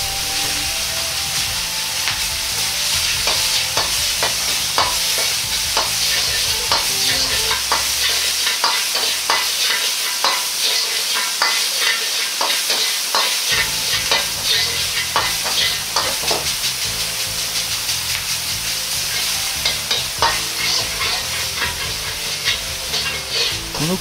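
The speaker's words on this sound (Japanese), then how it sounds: "ひき肉はお玉を使って薄く広げ炒めていきます。" Ground meat stir-fried in a pan, pressed and spread thin with a ladle, sizzling steadily and loudly with frequent scraping and stirring clicks throughout, no talking.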